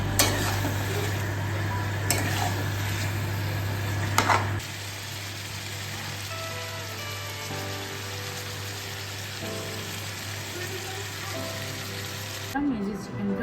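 Chicken frying in a spiced pan and stirred, steady sizzle with scraping stir strokes, loud and close at first, then quieter sizzling with clinks, with a steady hum beneath and rain on a surface.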